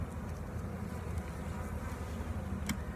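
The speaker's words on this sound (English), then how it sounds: "can maybe hear them today. They're really flying good." Honeybees fly around a hive box outdoors, a steady buzzing drone from many insects holding level throughout, with no talk.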